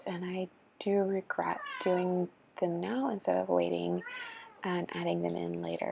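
A pet kitten named Morrigan mews repeatedly while climbing a bulletin board indoors, loud and close, her cries mixing with a person's steady talking.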